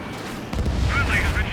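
Bombing explosions in the aerial combat video game Ace Combat 7, a deep rumbling boom erupting partway through and rolling on, with radio chatter and other battle sounds layered over it.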